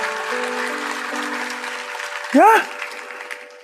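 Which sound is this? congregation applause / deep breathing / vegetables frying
congregation applause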